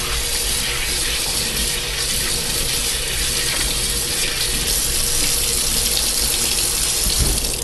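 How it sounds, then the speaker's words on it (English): Tap water rinses ash out of an e-cigarette atomizer coil, a loud continuous rush of running water splashing close by for the whole stretch. "I'm going to rinse out the ash out of it."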